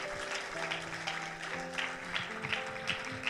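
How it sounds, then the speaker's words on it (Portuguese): A church congregation applauds with continuous, dense clapping over a sustained background of music, moderately loud throughout. "Dá mais uma salva de palmas a Jesus."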